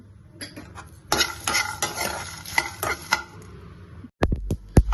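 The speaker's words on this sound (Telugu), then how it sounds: "ఇది కాస్త దోరగా వేగేటప్పుడు జీడిపప్పు వేసుకున్నాం. దోరగా వేగేయండి." Cashew nuts frying in a pan while a spoon stirs them, giving a busy crackling sizzle with repeated scraping clatter, then a brief pause and a few loud close knocks of the utensil.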